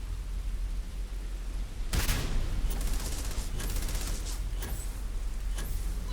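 Gunfire in the space game Starfield, a sudden burst of rapid shots followed by several more scattered volleys over a dense, steady background of game noise and ambience.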